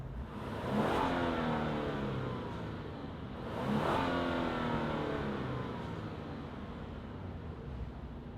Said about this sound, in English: let's fire up this engine and hear what it sounds like